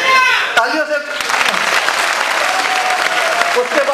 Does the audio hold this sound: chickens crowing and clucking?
no